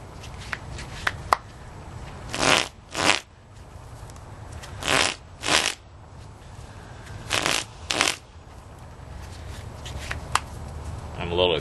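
A deck of playing cards treated with fanning powder is handled and shuffled, with small scattered card clicks and four pairs of loud, close riffling bursts spaced a couple of seconds apart.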